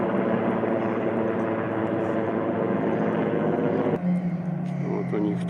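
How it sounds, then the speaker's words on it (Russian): A helicopter ferrying people across the Lena River near a boat station during the spring flood drones steadily in a broad, whirring roar, with a voice speaking over it before the sound shifts and eases. "переправа тоже с помощью вертолетов осуществляется через реку"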